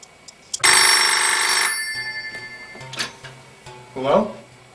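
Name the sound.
telephone ringing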